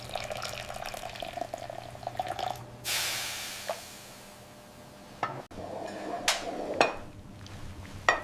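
Sweet and sour broth for Vietnamese basa fish soup is poured in a short, soft splashing rush, amid quieter drips, clinks and kitchen handling sounds before and after.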